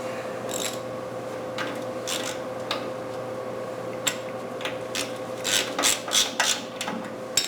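A ratchet snugs a bolt holding a homemade spring compressor to a car's front A-frame, sounding as scattered clicks that build into faster ratcheting bursts over a steady background hum.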